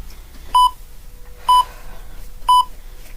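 A workout timer counting down gives three short, identical electronic beeps spaced evenly about a second apart, clear and prominent over a quiet background during a dumbbell upper-body strength session.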